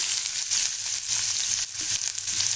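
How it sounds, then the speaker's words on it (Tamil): Chopped onions hit hot oil in a frying pan after mustard seeds and cumin for onion tomato thokku, giving a loud, steady sizzle and crackle that runs without a break, with no talking. "இப்போ இதில் வெங்காயம் போட்டுக்கலாம்"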